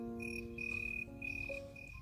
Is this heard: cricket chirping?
yes